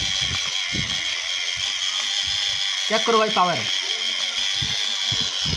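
A homemade gearbox for a Sonalika tractor runs with a steady, loud mechanical whir and grinding rattle throughout, while someone speaks briefly over it.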